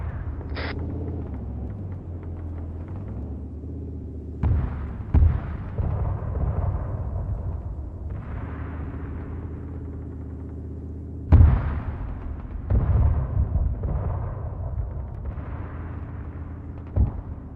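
Arma 3 tank battle: heavy cannon blasts and explosions boom out at irregular intervals, with two especially sharp, loud hits, over a low, constant engine rumble and scattered distant thuds.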